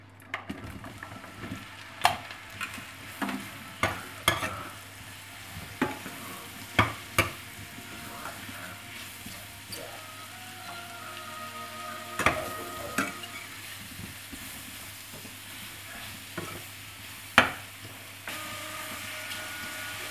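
Mushrooms frying in a pan just used for pork tenderloin, a steady low sizzle broken by repeated sharp scraping and stirring clatters at irregular intervals, with no talking.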